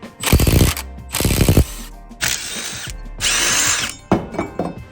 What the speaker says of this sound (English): let's go ahead, get all these bolts out and get the transfer case out right fast